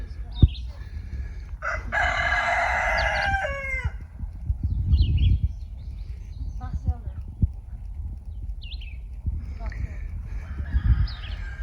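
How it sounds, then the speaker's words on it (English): Big roosters crowing and chickens clucking around a homestead coop, several loud nearby crows rising and falling with clucks in between, over footsteps and outdoor rumble, with people talking now and then. "I love these chickens. Big old roosters."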